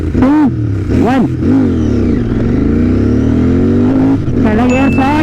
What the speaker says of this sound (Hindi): ये हमारा फर्स्ट गियर है।